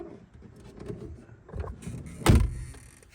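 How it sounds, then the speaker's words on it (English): A van door is shut from inside with one solid, close thud, after a stretch of rattling and handling noise. No one talks. "Let me shut the door and I'll show you."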